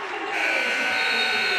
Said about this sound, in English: as the buzzer sounds here in Davis High School